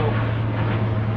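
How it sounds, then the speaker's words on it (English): A fixed-wing airplane flies low overhead along a flight path outside, a loud, steady engine roar that fills the whole moment without letting up. "Worst thing about being on a plane route is doing videos outside."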